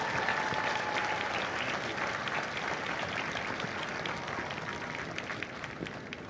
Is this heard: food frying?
no